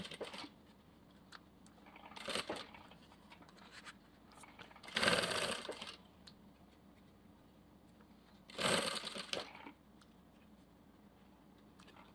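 A domestic sewing machine stitches over a zipper while making a half-moon cosmetic bag, in three short, fairly close whirring bursts separated by quiet pauses.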